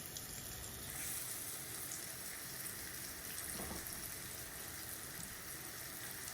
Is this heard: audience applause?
no